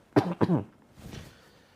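Two sharp coughs in quick succession, close and loud, followed by a softer breathy throat sound trailing off.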